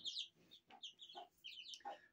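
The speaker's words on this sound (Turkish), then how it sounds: "Onların anası bu tavuk." A hen clucks softly several times in quick short bursts, close and alone, in a spacious free-range coop.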